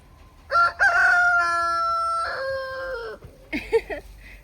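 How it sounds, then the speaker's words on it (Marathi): A rooster crows in one long, loud, drawn-out call close by, followed by a few short clucking notes, with no talking over it. "कोंबडा हो नाचत नाचत अंगावर यायला लागलाय माझ्या"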